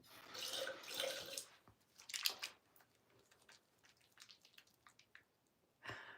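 Water runs from a tap in quiet bursts, a steady stream for about a second and a half, then intermittent splashes and drips, ending with another short gush; close and fairly faint.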